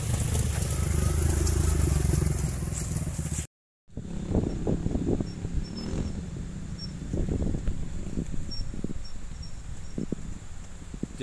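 Motorcycle riding over a rough road in the Banjarwangi and Cikajang area, the engine droning under heavy wind buffeting before a brief cut, then a quieter run of bumps and rattles with faint voices.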